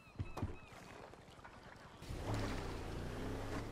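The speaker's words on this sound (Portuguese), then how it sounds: "É rápida pra cacete essa lancha." Speedboat engine in GTA V, a low droning hum that swells louder midway as the throttle opens, with water splash and wash around the hull and no talking.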